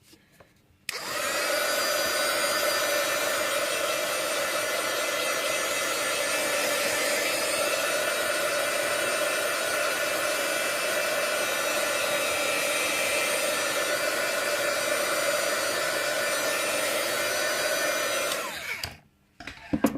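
A hair dryer drying paint on a mixed media card blows steadily at close range for most of the clip, a loud continuous whoosh that switches on abruptly and cuts off near the end.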